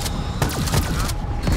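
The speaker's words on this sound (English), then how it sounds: "Instantly shoot him." Rapid gunfire from the Black Ops 3 Shadows of Evil zombies mode, a dense run of repeated shots with quick sweeping effects layered through a busy, continuous game mix.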